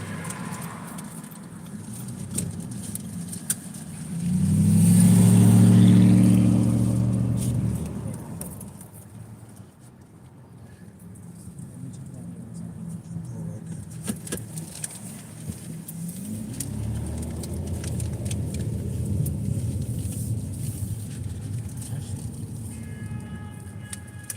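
A car driving on the road with a continuous low rumble of engine and tyres, swelling loudly around five seconds and again later, with people talking over it at times.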